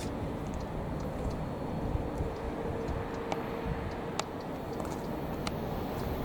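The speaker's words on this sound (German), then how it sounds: "Das ist noch eine der wenigen P-Lokomotiven, die SBB hat." An SBB electric locomotive hauls a train past on the Gotthard line's northern ramp, a steady, loud broadband rumble with occasional sharp clicks and squeals throughout.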